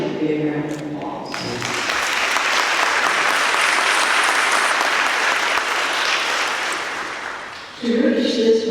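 An audience at a 2024 Granville Academy graduation ceremony in Granville County breaks into sustained applause. The clapping swells, holds for several seconds and fades as a speaker resumes talking over the hall's sound system.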